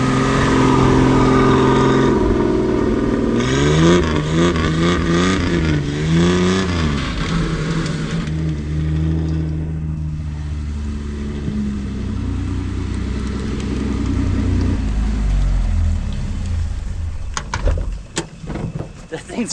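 A Datsun 240Z, wrecked and sitting for 30 years, revs loudly while driving, its engine note climbing and dropping in pitch through gear shifts, a steady close roar that later settles into a lower cruising drone.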